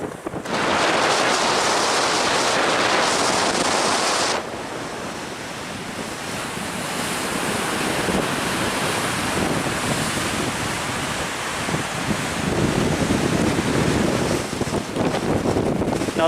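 Strong wind gusting across open water on Lake Superior in winter, a loud sustained roar of wind buffeting the microphone alongside wave-like surf, swelling and easing over several seconds without speech.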